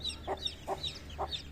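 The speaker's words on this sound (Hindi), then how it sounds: "पिंजरे से ना मैंने चूजों को बाहर निकाल लिया है, तो आप देख रहे होंगे माशाल्लाह से काफी क्यूट चूजे हैं" Fluffy young chicks let out high, thin peeps in a steady repeating pattern, taken out of their cage near a hen whose short low clucks come in three evenly spaced bursts underneath, close and clear with no talking.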